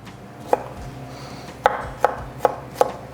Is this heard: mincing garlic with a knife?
yes